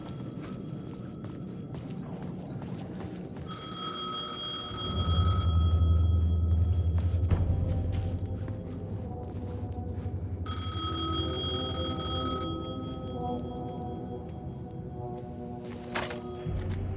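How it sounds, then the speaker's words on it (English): An old payphone rings inside the video game Alan Wake 2, sounding as repeated bright bell tones in two bursts over a low droning rumble, with no speech. "payphone was ringing. Somehow I knew the call was for me."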